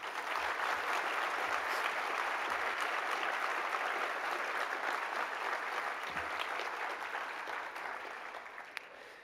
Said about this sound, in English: I just want to acknowledge her contributions with a round of applause